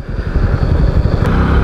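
A Bajaj Avenger 220 BS6 fuel-injected cruiser motorcycle engine while riding, a loud, close, steady drone with a rough pulsing texture throughout.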